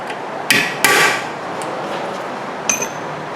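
Several sharp metallic hammer strikes on an impact screwdriver ring out, two close together early and another later, with a clanging tool sound, loosening a Phillips screw on a 2008 Hyundai Santa Fe's rear brakes.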